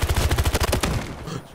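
An AK rifle fires in the video game Battlefield: a close, rapid automatic burst of about a dozen evenly spaced shots that stops suddenly, followed by a fading echo.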